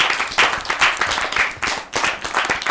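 An audience claps for a child singer at a Vinayaka Chavithi devotional song event, a loud, close burst of many hands with a pulsing rhythm.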